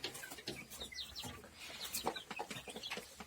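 Chickens in a backyard coop housing young chicks, with soft, fairly faint clucks and chirpy calls coming in quick irregular bursts.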